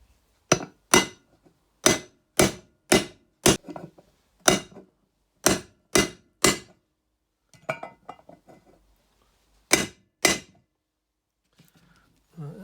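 A 30mm deep socket is hammered onto a Lotus twin-cam water pump in a run of sharp metallic taps, a dozen or so in uneven bursts, close and loud, with brief pauses and some faint clinking between strikes.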